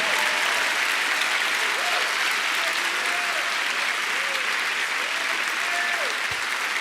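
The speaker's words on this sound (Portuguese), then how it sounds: "Vamos aplaudir forte, por favor." A church congregation applauds steadily and loudly throughout, a dense wash of clapping with a few faint melodic tones drifting underneath.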